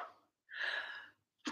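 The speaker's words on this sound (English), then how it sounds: "Got another sneeze coming." A single close sneeze bursts out after a short breathy intake, with a sharp burst of breath at the very end.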